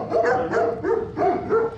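A young livestock guardian dog barks close by on a farm, giving about five quick, evenly spaced, somewhat high-pitched barks in a row.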